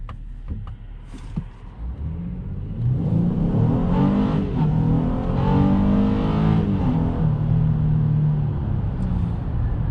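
A 2021 Honda Ridgeline pickup truck in sport mode with a nine-speed automatic accelerates, its engine and exhaust climbing into a steady, loud rising rumble heard from inside the cab after a quieter start.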